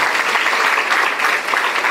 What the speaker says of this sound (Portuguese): Você pode dar uma salva de palmas ao nosso Deus.